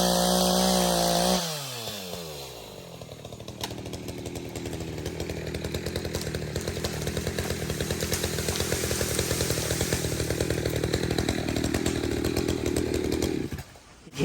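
A chainsaw cutting down a tree: the saw idles briefly, then bites into the trunk with a loud, steady gritty roar that runs continuously before stopping abruptly at the end.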